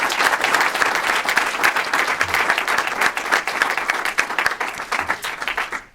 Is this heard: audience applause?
yes